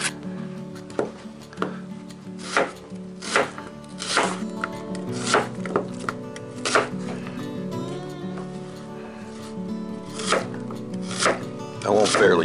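Thick slices being cut with a knife on a cutting board for frying squirrel in cast iron, with repeated sharp chops at an uneven, unhurried pace, close and clear with no talking.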